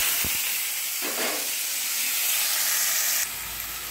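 Potatoes frying in hot mustard oil make a steady broad hiss that carries through without any talk, with a couple of brief clanks near the start and a shift in the hiss toward the end.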